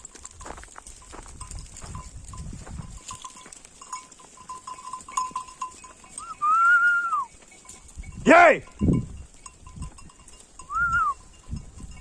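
A flock of sheep on open ground bleats in scattered, sporadic calls, some near and some farther off, with footsteps and low rustling between them.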